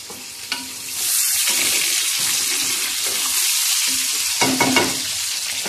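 Garlic paste frying in a hot pan while being stirred, a steady broadband sizzle with scraping stir strokes and a few brief clinks, close and fairly loud, no talking.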